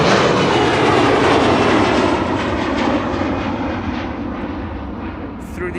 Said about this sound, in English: KLM to Inverness, flight 903 underway